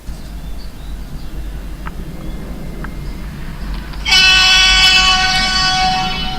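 A model train rumbles low and steady through a tunnel bore on a layout, with faint clicks, then a loud high whistle-like horn tone bursts in and holds for the last two seconds.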